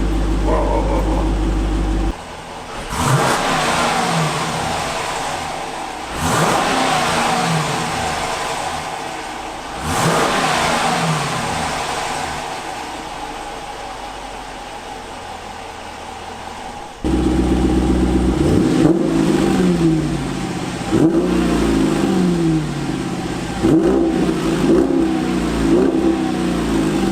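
Jeep Grand Cherokee fitted with a Borla cat-back exhaust, revved repeatedly from idle in loud surging bursts that fall back between pulls, with a dog barking at times amid the engine noise.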